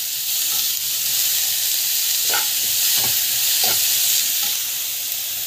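Grated carrot sautéed with asafoetida and rock salt sizzles steadily in a pan, with a few soft stirring scrapes breaking through the continuous hiss.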